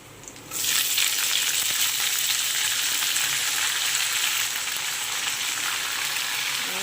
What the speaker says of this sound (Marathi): मस्त असं कांद्याची पात तेलात परतून घेतलेली आहे